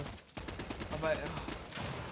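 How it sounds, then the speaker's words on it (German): Rapid gunfire from a Fortnite Duo Cash Cup finale endgame: dense bursts of shots packed close together, loud and continuous across the whole moment, with a short dip near the start before the firing resumes. "Der letzte Schuss ist von Link reingegangen"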